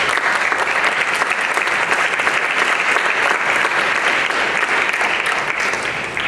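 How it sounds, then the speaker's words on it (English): Loud, sustained applause from an audience at an evening political forum event, steady dense clapping filling the room without a break and no voices rising above it. "give all our participants and everyone a big round of applause just for staying and attending tonight"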